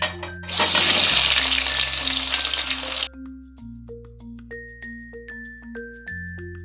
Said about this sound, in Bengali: কাটা যে আলুগুলো ছিল তার মধ্যে হলুদ লাগিয়ে নিয়েছি সেগুলো এবার ভেজে নিচ্ছি